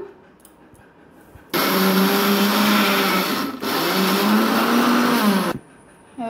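An electric kitchen grinder blending poppy seeds and green chillies into a paste, a loud whirring motor running in two bursts with a brief dip between them and quiet before and after.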